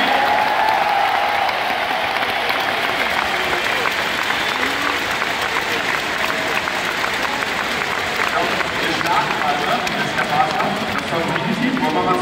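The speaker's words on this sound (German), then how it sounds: "Macht wirklich nochmal den lautesten Applaus, den ihr überhaupt habt, für die ganzen Teams" Crowd at a football tournament event in Berlin applauding loudly for the teams, a dense, sustained wash of clapping and cheering throughout, with a voice speaking over it.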